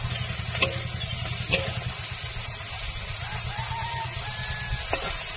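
Tiger prawns fry in a pan with chopped onion and green chili while being stirred. A steady sizzle and scraping run beneath a low background hum, with a few sharp utensil clicks along the way.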